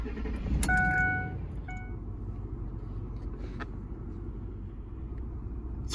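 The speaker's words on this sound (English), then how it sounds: "So let's start the truck." A Ford F-150 pickup engine cranks and catches, with brief chime tones at the start, then settles into a quiet, steady, low idle rumble nearby.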